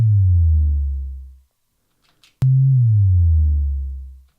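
Two loud infra bass sub drop hits built in REAPER, each a deep sine tone that starts with a sharp click and slides downward over about a second and a half, separated by a brief near-silent gap.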